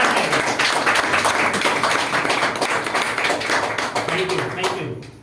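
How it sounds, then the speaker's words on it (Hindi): Audience applause at a business motivation event: dense, sustained clapping from a crowd filling the room for about five seconds, then tapering off at the end. "तो एक बार उन सभी योद्धा के लिए ताली"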